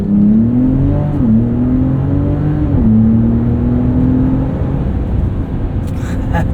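Engine of a 2025 Ram RHO truck launching from a stop, roaring loud and close inside the cab, pitch climbing through a few quick upshifts before the drone settles and eases off at the end.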